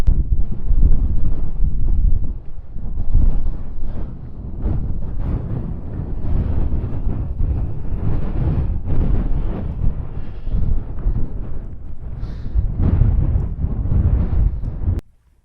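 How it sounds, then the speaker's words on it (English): Strong wind buffets a microphone outdoors on a hillside in the Brecon Beacons, a loud, continuous low roar and rumble with gusty surges and no break. "it is getting quite windy now, as you can probably tell"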